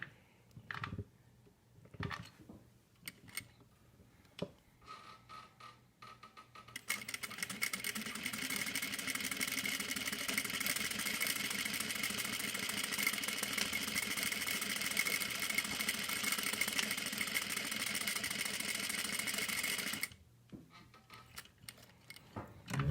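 A sewing machine stitching parallel rows runs in one continuous steady whir for about thirteen seconds, with quieter handling clicks and taps before and after.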